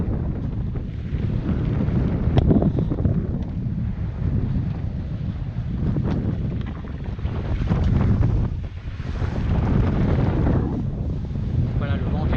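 Steady wind gusts buffeting a microphone aboard a sailing catamaran at sea in a 17-knot breeze, heading away from the coast of Guadeloupe, a continuous rushing roar with brief lulls, water and hull noise mixed in.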